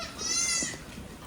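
Goats bleat in a farm pen, a drawn-out wavering call rising near and fairly loud, then fading into softer shorter bleats and faint background rustle.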